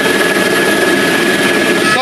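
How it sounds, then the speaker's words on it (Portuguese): Cabin noise inside an Espírito Santo Military Police helicopter in flight, a loud, steady engine and rotor roar filling the space without a break. "Nós estamos agora dentro do helicóptero da Polícia Militar do Espírito Santo"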